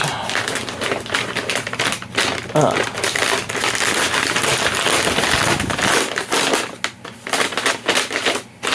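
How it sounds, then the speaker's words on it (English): A giant paper bag holding the instruction manuals for the Lego Lord of the Rings The Shire set 10354 is crinkled and rustled up close in a steady stream of crisp paper crackles and taps, with brief talk over it. "there's our giant paper bag with the instructions inside, no doubt"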